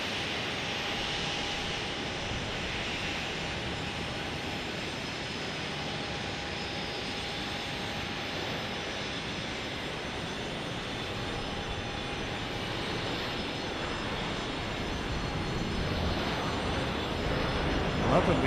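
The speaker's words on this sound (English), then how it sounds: "Contour Airlines taking off to the small cities" A Contour Airlines passenger plane takes off at Phoenix Sky Harbor Airport, its engines a steady broad roar heard from a distance that builds slightly louder toward the end, with no voices.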